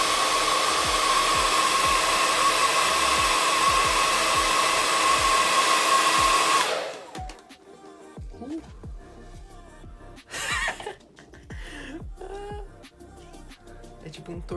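A hair dryer blows hot air onto hair held inside a plastic PET bottle for styling. Its loud steady roar runs for about six seconds and then cuts off, leaving quieter handling noises and a voice speaking.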